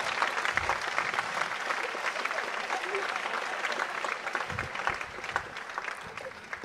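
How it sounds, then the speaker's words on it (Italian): A comedy-show audience breaks into continuous applause, thick even clapping throughout, with some voices and laughter mixed in underneath. "meritano un applauso, meritano un applauso"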